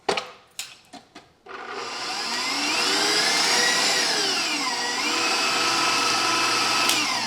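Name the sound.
mixer mixing eggs and sugar for cake batter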